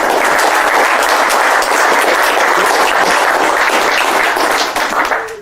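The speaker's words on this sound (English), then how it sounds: "Give him a big round of applause, please" A big audience round of applause at a live mentalism stage show, loud, dense and continuous clapping throughout, tapering only slightly at the close.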